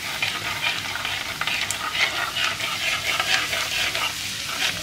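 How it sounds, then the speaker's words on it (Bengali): Chopped garlic and ginger fry in a hot pan for chili chicken, giving a continuous close crackle and sizzle with faint stirring, and no voices. "এবার আমি দিয়ে নিচ্ছি একটু রসুন কুচি, সামান্য আদা কুচি। এটাকে ভালো করে একটু ফ্রাই করে নেব আগে।"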